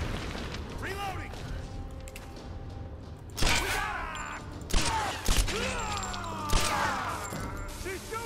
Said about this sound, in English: I'm shooting at you.